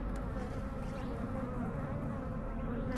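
Honey bees swarm around a hive in a garage, a dense, steady buzzing drone from many insects close by, with no talk.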